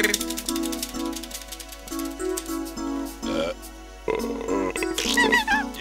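A long, warbling game burp from a character who has been drinking soda in Croc 2, heard in stretches over bouncy chiptune-style game music, with squeaky voice-like sound effects near the end.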